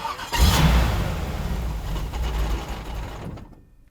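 An engine with fuel delivery problems stumbles and cuts out on an uphill, giving a rough, uneven rumble that swells briefly, then sputters and fades away to silence.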